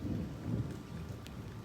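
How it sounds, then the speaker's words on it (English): Thunder rumbles close by during rain, a low, rolling boom over the steady wash of falling rain. "And some thunder nearby."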